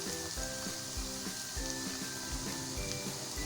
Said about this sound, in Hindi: प्याज को और अदरक लहसुन को हम 1 से 2 मिनट तक भूनेंगे